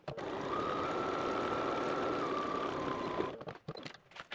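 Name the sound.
sewing machine stitching a 1/4 inch seam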